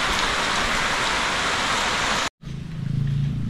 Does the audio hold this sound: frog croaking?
no